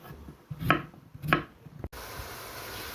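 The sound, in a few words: chopping potatoes with a knife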